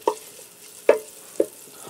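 Butter and olive oil stirred in a Ninja Speedi for a Salisbury steak casserole: three short scraping clicks of a utensil over a faint sizzle, quiet and close, no talking.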